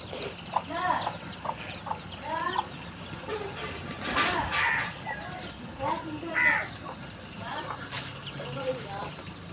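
Native country hen clucking repeatedly with her brood of about five or six chicks, a steady run of nearby calls over outdoor farmyard background with occasional faint voices.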